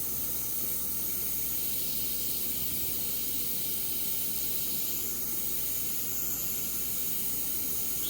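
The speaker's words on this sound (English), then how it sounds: "Now I'm going to take the same color and I'm going to spray it lighter." A steady, soft hiss of an airbrush spraying paint on a Mustang hood, constant in level throughout with no pauses, close by and without any voices.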